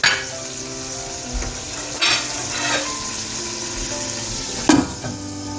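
Tomatoes for a chicken curry cook in a covered pot, giving a steady sizzling and bubbling hiss, with a few light clinks of pot or utensil along the way.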